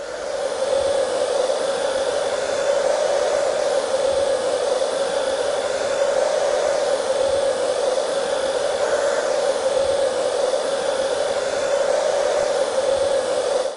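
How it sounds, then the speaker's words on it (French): A hair dryer with its nozzle removed, set to medium power and hot, blows a steady, close, even whoosh of airflow with a constant mid-pitched hum and no pauses. "On va prendre le sèche-cheveux, je retire l'embout, je le mets à puissance médium, donc pas trop forte, et chaud"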